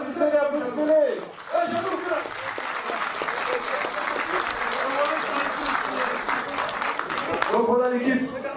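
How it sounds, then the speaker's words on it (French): An audience at a French gathering applauds a team being introduced, with the clapping swelling into a sustained round in the middle while a voice speaks before and after it. "applaudissez-les"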